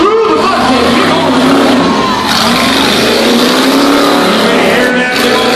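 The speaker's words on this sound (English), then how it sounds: "Hear that little 350 engine." A truck's 350 engine revs hard and roars continuously up close at a county fair tough-truck event, rising and falling as it accelerates through a mud pit.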